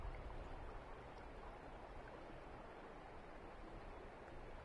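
Steady, faint rushing of flowing water where the South Fork and main stem of the Eel River meet, a continuous even wash with no voices.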